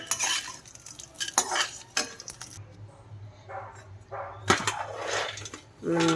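Peanuts roasting in a pan for chutney, stirred in bursts of scraping and rattling with pauses between, a steady low hum beneath and a soft voice at times.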